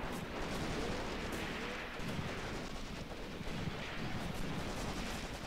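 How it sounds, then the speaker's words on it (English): Artillery fire in the war game Graviteam: Mius Front makes a dense, continuous rumbling barrage of overlapping booms, fairly quiet and distant throughout. "Did they launch artillery at their own position?"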